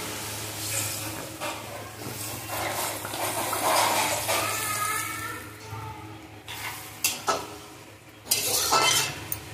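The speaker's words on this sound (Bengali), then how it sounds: "শাকটা একটু নেড়ে চেড়ে নিয়েছি, এখন জল দিয়ে দেবো।" Water goes into a pan of stirred pumpkin greens and potatoes on a stove. Pan scraping and utensil clinks come first, then louder splashing bursts of water near the end, heard close up.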